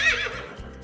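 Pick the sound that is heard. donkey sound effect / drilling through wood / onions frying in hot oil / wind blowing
donkey sound effect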